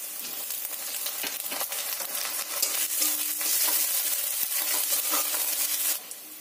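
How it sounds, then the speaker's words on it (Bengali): Onion, garlic and ginger paste fry in a pan with a continuous close sizzle, broken by spoon-stirring scrapes and clinks until the hiss drops away near the end. "পেঁয়াজ আদা রসুন আমার খুব ভালো করে ভাজা হয়ে গেছে"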